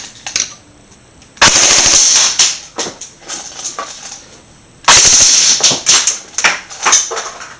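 Two rapid full-auto bursts from an airsoft electric gun with a Systema Magnum mechbox and Cheetah MOSFET on a 9.6 volt battery, a loud buzzing rattle of about 13 rounds per second, each burst lasting over a second.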